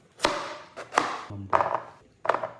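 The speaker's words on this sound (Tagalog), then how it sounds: "hiwain muna natin tong patatas" Four distinct knife chops through potatoes on a cutting board, sharp close thuds spaced evenly about every two-thirds of a second, with no talk over them.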